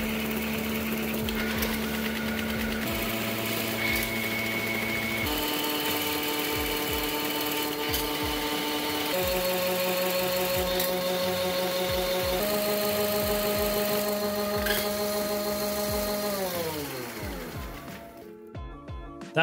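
A motorized high-rate Nerf dart blaster runs a dry fire test, whirring loudly with a droning motor that steps up and down in pitch over sustained rapid mechanical clatter before spinning down at the end.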